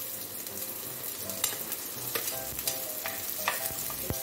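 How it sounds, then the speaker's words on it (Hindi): Finely chopped onion frying in hot oil crackles steadily up close, with scattered sharp pops and spatula scrapes against the pan. "अब इसके अंदर ये बारीक कटा हुआ एक प्याज डाल रही हूँ।"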